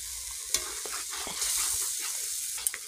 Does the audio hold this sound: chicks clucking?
no